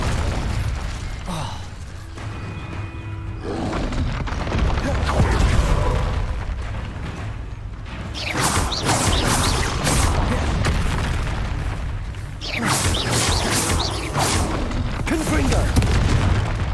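Confringo fire-blast spells exploding in Hogwarts Legacy gameplay, repeated heavy booms and crackling bursts rolling through loud combat, with brief shouted spell voices mixed in.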